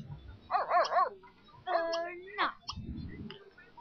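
Dog barking and yipping in The Sims 3 life simulation game, several short bursts of barks and whimpers close up, followed by a lower rumbling sound, all fairly quiet.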